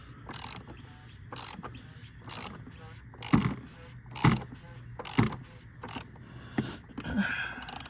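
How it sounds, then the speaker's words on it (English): A ratchet clicks in repeated bursts as a 32 mm oil filter cap is tightened on a BMW G30 540i during an oil change, each stroke a short close rasp with pauses between. "switch this back to on position, and just slowly but surely tighten it back down"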